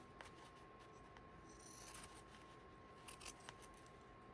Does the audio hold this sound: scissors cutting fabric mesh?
yes